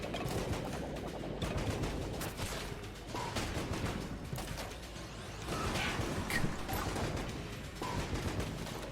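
Explosive weapon gunfire in the video game Enter the Gungeon, a dense, continuous stream of rapid blasts and crackling bursts that keeps going throughout, with no talk.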